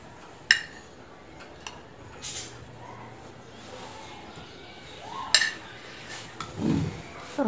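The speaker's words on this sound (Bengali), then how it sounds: "এখন এগুলো আমি সব মিক্সড করে দেবো এর মধ্যে" Spices, raisins, sour yogurt and mustard oil are stirred together in a bowl for a cauliflower dish, with scattered quiet clinks and taps of a utensil against the bowl and a few soft scraping bursts.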